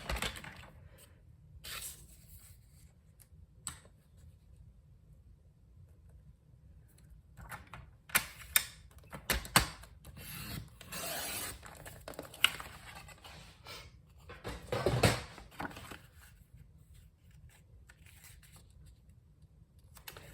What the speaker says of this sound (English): let's just cut that corner to corner